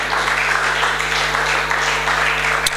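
A church congregation claps hands together during a sermon, a dense, steady patter of many palms filling the room over a low electrical hum, with no pause throughout.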